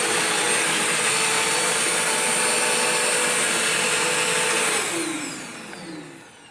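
A Bissell CleanView vacuum cleaner runs loud and close with a steady, dense motor roar, then its level and pitch sag for the final stretch. No one talks.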